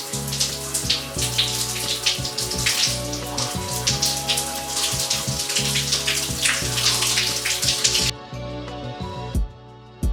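Warm water streams steadily over hair during a wash, a dense close splashing hiss that runs continuously before cutting off near the end, leaving brief quiet with a last spatter.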